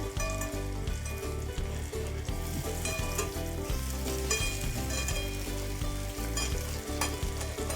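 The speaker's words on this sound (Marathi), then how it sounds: "आपण त्याला रंग येईपर्यंत फ्राय करून घेऊ" Tandoori momos frying in a pan, a loud continuous sizzle with rhythmic scraping and stirring knocks close by, with no one talking.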